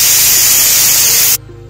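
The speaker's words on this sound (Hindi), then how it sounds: "देखिए हमारे कुकर में 1 सीटी आ चुकी है।" A pressure cooker whistles as it releases steam while maize saja cooks: a loud, steady broadband hiss for over a second that cuts off abruptly into quiet.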